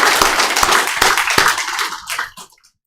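A church congregation claps at a New Year's Eve service, a burst of applause with a few sharp individual claps that thins out and fades to silence by the end.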